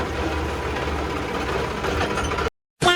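A tractor engine runs nearby with a steady, low, chugging rumble that holds constant, then drops out abruptly before a short burst returns.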